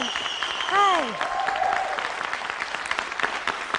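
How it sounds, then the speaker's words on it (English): Audience applause greets a woman being introduced at a presentation, a broad steady wash of clapping filling the room, with a brief voice or tonal sweep rising near the start. "give her a round of applause"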